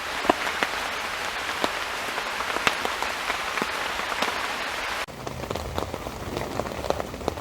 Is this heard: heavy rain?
yes